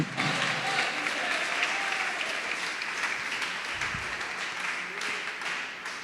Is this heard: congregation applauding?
yes